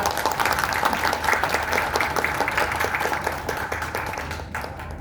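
Sustained, close audience applause at the launch of the Thai amulet association in a hotel ballroom in Lak Si, Don Mueang. Many hands clap steadily for about five seconds, tapering slightly at the end.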